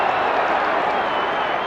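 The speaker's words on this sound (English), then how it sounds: "The crowd screaming for a push in the back" A football crowd roars at a 1993 AFL match between West Coast Eagles and Fitzroy, a dense, steady wall of distant crowd noise with no distinct breaks throughout.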